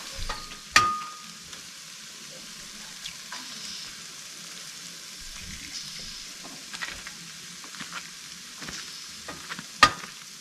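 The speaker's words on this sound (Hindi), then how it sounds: "ये अनियंस एंड टोमेटोज, ये हल्का सा जब ये फ्राई हो जाएंगे गोल्डन ब्राउन" Onions and tomatoes fry gently in a pan at an outdoor campsite, a faint soft sizzle with a few sharp clinks and scrapes of a utensil against the pan.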